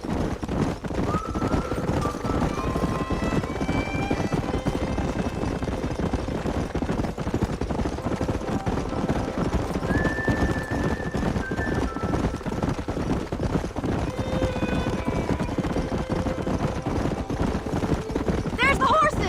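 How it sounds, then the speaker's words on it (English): Horses in the video game Red Dead Redemption gallop with constant hoofbeats, and whinnies rise over the clatter now and then, while voices speak and shout throughout. "There's the horses!"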